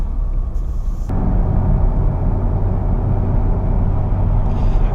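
A Renault Clio 4 car, built in Algeria, is driving with a steady, loud engine and road rumble heard from inside the cabin. A brief higher whine comes at the start.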